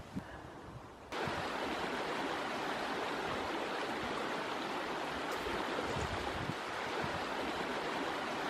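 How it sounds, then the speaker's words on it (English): Snowmelt water rushing down into a valley, a steady, close, full-bodied roar of flowing water that swells abruptly after the first second and then holds constant, with no voices. "the snowpack melts and the water comes rushing down into the valley"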